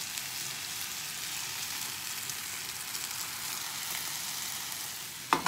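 Enchilada mixture sizzling steadily in a smoking hot pan, a continuous close hiss at even level throughout, with a brief sharper clatter right at the end.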